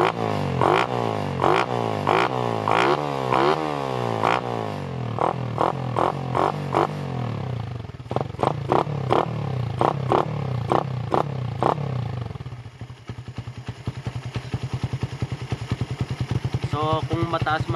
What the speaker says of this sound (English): i-warm up muna natin ng 5 minutes itong makina natin.